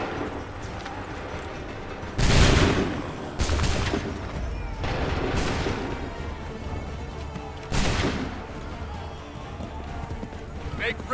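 A musket volley fired on command in Assassin's Creed III, with several loud, booming discharges spread across the stretch and rumbling battlefield noise between them. Shouted orders are heard over the shots.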